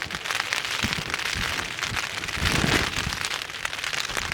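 Steady rain pattering on a tent, a dense crackling hiss of drops that swells slightly midway, continuous and close, with no voices.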